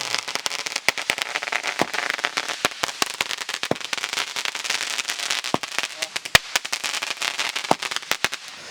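Sivakasi firecrackers go off in a long rapid string of sharp cracks and pops, loud and irregular, with voices now and then among the bursts.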